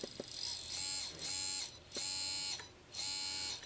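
An RC crawler fitted with an RC4WD 80T motor whines under throttle in four steady bursts with short pauses between, a buzzy electric drone heard up close with no talking.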